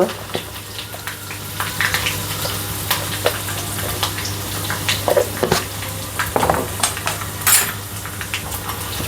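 Raw eggplant bharta being mixed by hand with peanuts, green chillies, asafoetida and fresh garlic: soft, irregular squishing and light clinks of a utensil against a bowl, close by, with someone talking throughout.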